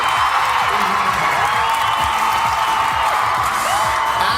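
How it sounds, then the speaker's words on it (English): Home crowd in Doncaster roaring and cheering continuously at close range, a dense wall of screams, whoops and clapping with no pause. "It's the home crowd."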